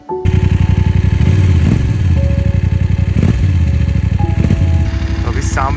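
A motorcycle engine is started in the cold evening air of Kaza in Spiti Valley. It catches at once and settles into a loud, steady idle with rapid, regular firing pulses, heard up close.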